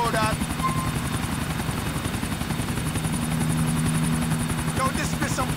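A helicopter in Grand Theft Auto IV drones with a loud, steady rotor chop throughout, close and continuous, while a character speaks over it.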